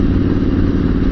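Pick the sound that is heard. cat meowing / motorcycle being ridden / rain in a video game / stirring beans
motorcycle being ridden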